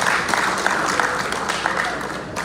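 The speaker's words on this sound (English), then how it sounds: "give him a round of applause" A crowd at the NUP convention closing ceremony applauds, a dense and fairly loud wash of clapping that carries on throughout without a break.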